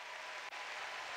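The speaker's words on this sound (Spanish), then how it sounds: "Dele fuerte ese aplauso al yo soy." A crowd applauds steadily and evenly at a Christian preaching event in Resistencia, Chaco, a dense continuous wash of clapping that fills the whole stretch without voices.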